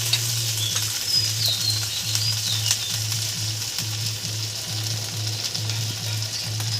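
Spice masala with salt, chilli powder and turmeric sizzles steadily in a pan, a close, continuous frying hiss broken by soft scraping stirs, with no talking.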